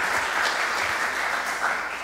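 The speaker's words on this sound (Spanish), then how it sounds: "Un aplauso, por favor." Brisk, full applause from an audience at a formal gathering, steady and close throughout the short stretch with no speech over it.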